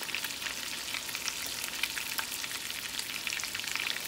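Lean venison burgers fry in a pan, giving a steady, bright, crackling sizzle with tiny pops that carries evenly throughout, close up and with no one speaking.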